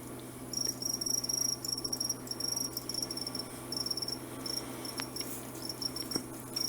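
Crickets fighting in a terrarium, chirping in short, repeated high trills close by, with pauses between bursts over a quiet background.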